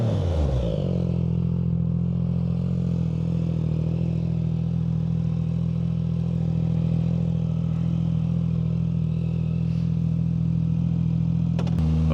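A tuned Yamaha MT-09 motorcycle engine catches after a brief starter crank and settles into a steady, loud, throbbing idle that runs close by without a break.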